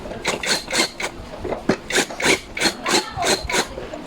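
Bolts being tightened during assembly of a black mesh office chair: a steady run of about a dozen rasping, scraping tool strokes in an even rhythm, close and moderately loud, with no talking.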